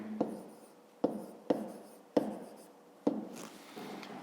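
A pen writing on paper during a fifth-grade maths exercise, five quiet separate strokes with soft scratching in between, close and alone.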